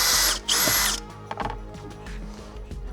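A power drill with a 5 mm bit whines loudly for about a second as it drills into a truck dashboard, then stops, followed by clicks and rattling of tools and parts nearby.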